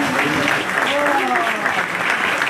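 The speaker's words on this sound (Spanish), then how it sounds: "Fuerte aplauso" Crowd applause greets a family arriving to receive their new home at a housing handover, steady dense clapping with some voices mixed in throughout.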